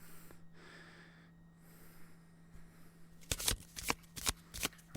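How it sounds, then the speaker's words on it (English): Quiet hiss gives way to a quick run of crisp video game card-shuffling sound effects, a few sharp riffling bursts close up. "shuffling some cards."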